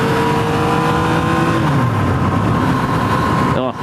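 A 2017 Yamaha FZ-09 motorcycle engine drones loud and close as the throttle rolls on, pitch shifting steadily under the rider's talking, then cutting off abruptly near the end.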